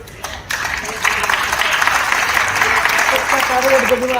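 An audience bursts into applause at a Hindi poetry recital, a brief pause and then sustained loud clapping from a large crowd that holds steady to the end.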